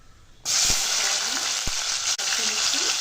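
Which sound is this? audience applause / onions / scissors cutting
onions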